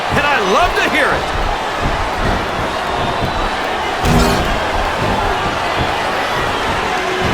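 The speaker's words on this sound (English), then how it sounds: "This capacity crowd is making their opinions known tonight" Arena crowd in the WWE Smackdown vs RAW 2007 video game during an ironman match between Jillian Hall and Melina, a constant roar of fans with a brief louder swell and a thud, under commentators talking.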